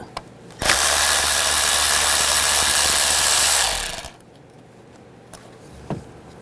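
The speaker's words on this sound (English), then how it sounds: "Take this bolt out, use a 10mm socket." A 10mm socket on a power tool whirs loudly and continuously for about three seconds while a bolt is removed from a 2004-2009 Toyota Prius, then cuts off, followed by a few faint clicks.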